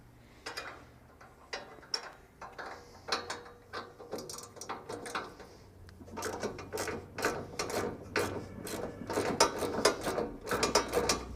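A 1/2-inch socket wrench ratchets on a snowblower shear bolt, making rapid clicking runs in close, uneven bursts that get faster and louder toward the end.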